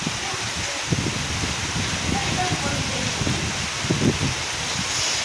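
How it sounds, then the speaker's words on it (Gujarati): Heavy monsoon rain falls in a constant broad hiss with gusty rustling and low buffeting mixed in. "ફૂલ વરસાદ ગાજે છે ને વરસે છે"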